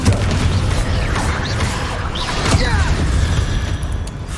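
A rumbling, continuous blast from the Confringo spell in the video game Hogwarts Legacy, loud and dense, with a couple of sharper cracks mixed into the roar.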